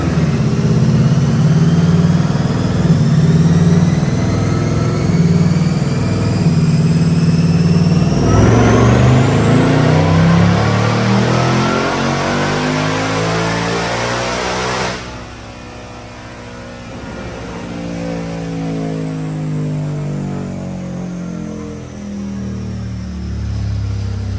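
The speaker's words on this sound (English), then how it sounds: "I'm gonna go ahead and roll the dyno video right now" A stock 2024 Ford Mustang GT with a Roush supercharger revs hard on a dyno, climbing in pitch with a rising supercharger whine, then drops off and winds down before revving again.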